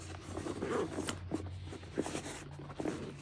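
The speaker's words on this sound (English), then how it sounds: "Zipper pull." A paracord pull tugs a zipper on a bag. The zip rasps close by in short scratchy strokes, with small clicks and a low background hum, and no talk over it.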